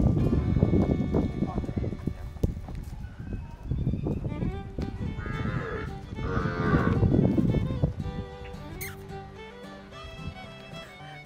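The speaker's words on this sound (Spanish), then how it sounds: "les presentamos a continuación una vaca Girolando" A Girolando cow on a farm moos loudly several times in low, drawn-out calls among other livestock noises, with people talking over it.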